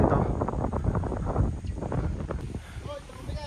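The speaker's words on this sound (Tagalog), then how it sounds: "Sarap ng hangin dito." Wind on a hilltop buffets the microphone with a continuous low rumble and gusty roar, loud and close, while people talk over it.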